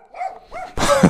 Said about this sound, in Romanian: Te dai în spate, că latră la tine.